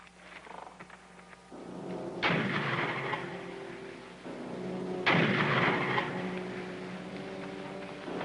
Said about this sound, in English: Shooting into the ground